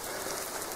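Heavy rain pouring down outdoors in a forest camp, a dense, steady hiss of drops that fills the whole brief moment with no other sound.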